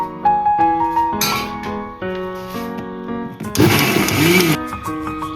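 An electric grinder whirs while crushing chilies for a Kerala-style fish curry, its motor sounding in steady tonal bursts and rising to a brief, harsher roar near the end, with no speech.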